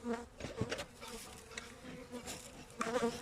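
Honeybees buzz steadily at a hive in January, a colony moved last autumn from a bark log hive into a standard hive after weakening; a continuous droning hum, fairly close, swelling briefly near the start and end.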